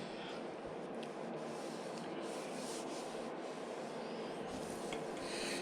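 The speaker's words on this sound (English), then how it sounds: "I've been sanding here." Steady, continuous rubbing of sandpaper across a painted Lambretta GP scooter side panel, a close, even rasping with no pauses.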